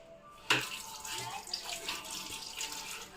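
Running water pours from a tap as hands are washed under it, beginning with a sudden splash and then continuing as a steady close rush of water with small splashes.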